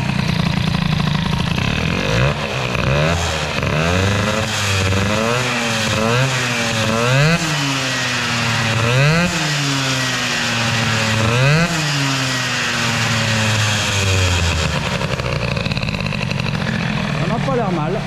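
A Peugeot 103 moped fitted with an Airsal 65 air-cooled kit, carburettor being tuned, runs close by, its two-stroke engine revving up and down in repeated blips over a steady idle for the whole stretch.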